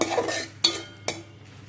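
A paste of onion, garlic and ginger sautéed for a potol and prawn curry, soft frying hiss under two sharp spatula scrapes against the pan, close and brief, with no talking.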